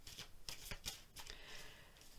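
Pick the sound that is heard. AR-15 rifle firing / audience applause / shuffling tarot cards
shuffling tarot cards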